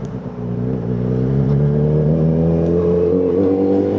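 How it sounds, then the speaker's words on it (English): A Yamaha XJ6N motorcycle ridden through Coventry, its engine a steady close droning hum that rises slightly as it pulls away, with no talk. "Even the bike should be sounding crisp."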